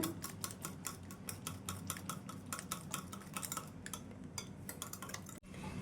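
A whisk beats an egg mixture for an omelette until it turns frothy, making rapid, regular clicking against the bowl. The sound is fairly quiet and close, keeps a steady rhythm for several seconds, then stops abruptly.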